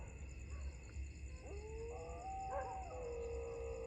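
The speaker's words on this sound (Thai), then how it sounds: "เห็นปะหมาเห่า" Dogs howling and whining at night near a forest, drawn-out rising and wavering howls that sound distant and faint over a steady hum of insects.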